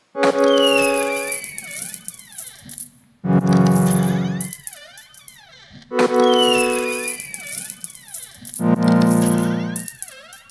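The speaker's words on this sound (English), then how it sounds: "As you can hear, you've got coins, applause, and a firework that goes off." Electronic sound effects from a Boxxit prototype device repeat in cycles: bright tinkling coin chimes, bursts of applause-like noise and whistling descending firework sounds, loud and alone.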